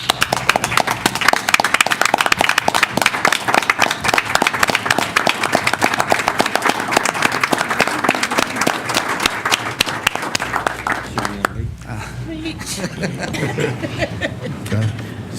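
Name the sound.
audience applause for council member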